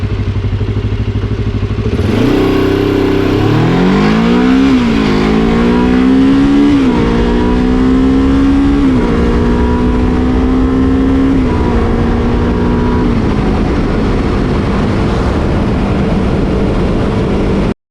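A Kawasaki KLE 500 motorcycle accelerates hard from a standstill toward 100 km/h, its engine climbing in pitch through several gear changes, each shift briefly dropping the revs before rising again, loud and close with no talk.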